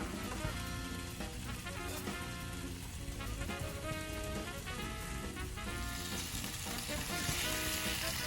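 Beef and bell peppers frying in a pan, making a loud, dense, continuous sizzle with rain-like crackle that stays steady throughout, with no talking.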